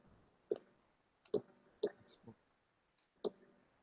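A few isolated keyboard key taps, four or five sharp clicks spaced irregularly across a few seconds, faint and close against a quiet room.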